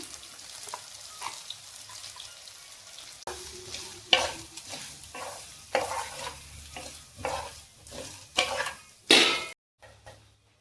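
Stirring and frying of a Kerala-style mixture in a pan, with soft sizzling under repeated scraping and clinking strokes of a spoon against the metal pan, close and moderately loud, with no talking.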